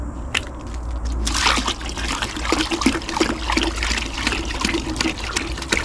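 Water trickles and splashes in the radiator cooling system of a 1950 Dodge Meadowbrook, a steady close gurgling flow with small sloshes that runs throughout after a brief quieter start.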